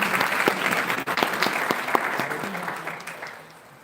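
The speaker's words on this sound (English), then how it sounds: "Big round of applause for him." Audience applause welcoming an educationist to the stage at an international academic conference, a dense wash of steady clapping that fades toward the end.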